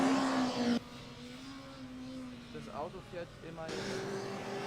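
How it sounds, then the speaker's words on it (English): Aalborg Formula Student race car on the skid pad, its engine note rising and falling in revs, heard from a distance as a steady tonal drone beneath close commentary. "we can clearly hear the Aalborg car going up and down in the revs"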